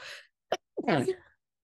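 A single close sneeze: a sharp intake of breath, a quick burst, then a voiced, wet exhale, preceded by a brief breathy sound.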